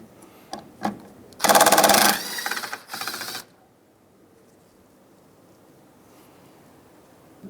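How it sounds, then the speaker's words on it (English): A 10mm nut comes off a car A/C line on a 2007-2015 Mazda CX-9, heard as a burst of rapid close ratcheting or power-tool whirring lasting about two seconds, with scattered clicks around it and then near silence. "We're going to take off this 10mm nut."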